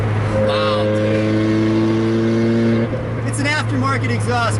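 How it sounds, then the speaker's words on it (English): A 2008 Lotus Exige S with a loud aftermarket exhaust drones steadily from right behind the cabin while driving, then the note shifts as the revs change near the end. "The engine's right behind you. And that exhaust is so loud, too."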